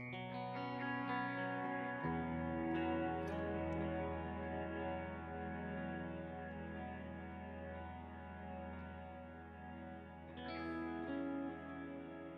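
Electric guitar played through a Mood pedal with reverb blended into the dry signal, sustained chords ringing with a washy, shimmering tail and a chord change near the start, steady and alone without talk.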